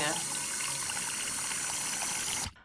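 Tap water pours into a sink closed with a 3-in-1 sink stopper and drain strainer, a loud, steady, close rushing stream that cuts off abruptly near the end.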